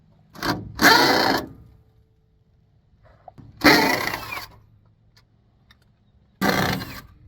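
Bolts come off the front piece of a utility trailer in three short bursts of loud, close metallic rattling from a power tool, with near-silent pauses between.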